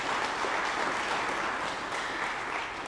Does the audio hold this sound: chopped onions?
no